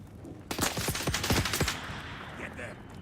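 Burst of rapid gunfire from a Dune video game, a dense rattling volley of shots lasting about a second before fading into quieter background ambience.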